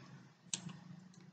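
A single sharp computer mouse click stands out over a quiet, faint background hum, with a couple of softer ticks following.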